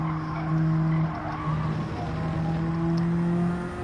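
Race car engine in Gran Turismo 7 with a failing engine about to blow up, droning steadily with sustained tonal whine and rising revs, loud and continuous with tire noise, no talk.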